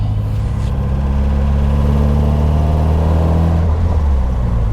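A 1978 MG Midget drives at speed, its engine droning steadily with loud road and wind noise from inside the car and no talking.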